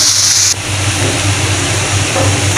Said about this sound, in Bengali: শাকগুলোকে লবণ আর হলুদ দিয়ে ভালো করে নেড়ে নেব।